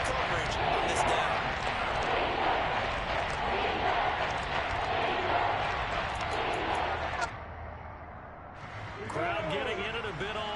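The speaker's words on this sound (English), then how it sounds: "Crowd getting in it a bit already." A stadium crowd in a Madden football video game keeps up a steady, dense roar on a third down, with a commentator talking over it before the noise briefly drops and swells back.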